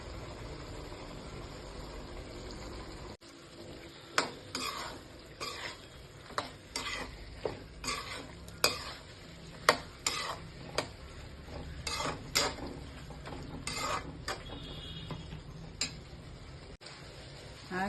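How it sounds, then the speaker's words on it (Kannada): Vegetables fry in oil in a kadai with a soft continuous sizzle, punctuated by a dozen or so sharp scraping clinks of a spoon stirring against the pan at an uneven rhythm. "ಈಗ ಈ ತರಕಾರಿಗಳೆಲ್ಲ ಹಾಕ್ಕೊಳ್ಳೋಣ."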